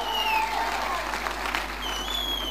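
A church congregation claps hands for Jesus during a testimony time, a dense, steady wash of applause close by with a sustained keyboard tone beneath and voices mixed in.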